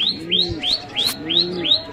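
Repeated rising chirps of a sick female pigeon's call sound in a steady rhythm, close by, with low cooing underneath.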